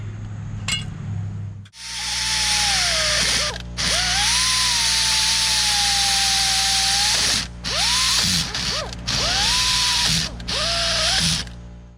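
A power drill enlarges a bolt hole in a front-suspension spring plate on a 1990 Ford F350 truck. A loud, close motor whine holds steady under load, then breaks into several short bursts with dips in pitch.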